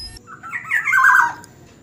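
A black-naped oriole sings a short, rich, fluting phrase of liquid whistled notes, fairly close and clear, with no talking.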